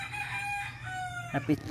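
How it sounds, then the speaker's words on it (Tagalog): Backyard chickens let out in the morning: a rooster's long, drawn crow rings over a low background hum, followed by two short, sharp clucks near the end, fairly close by. "update nga pala sa mga manok. Ayan na sila guys."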